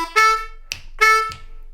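A blues lick on a D harmonica rings out as short, reedy, punchy draw notes in two call-and-response phrases, loud and close, with no talking.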